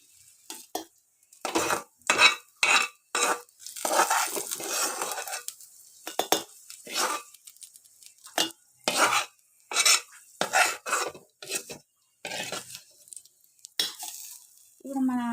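Coriander leaves stirred and fried in oil in a pan for homemade tomato chutney, heard as a run of close scraping and clattering spoon strokes against the pan with a faint sizzle between them, no voices.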